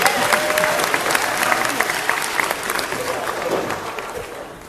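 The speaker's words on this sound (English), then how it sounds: "let's give a nice round of applause to these lovely individuals from Battlestar Galactica" A convention hall audience at a Battlestar Galactica panel during Dragon Con 2017 claps in sustained, dense applause that slowly tapers off, with faint voices underneath.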